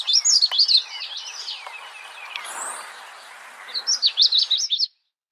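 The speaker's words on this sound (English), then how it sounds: "here's a clip of how the magnolia warbler sounds" A magnolia warbler sings a bright, high warbling phrase of quick whistled notes, pauses with soft background chatter, then repeats a similar sweet phrase, loud and close.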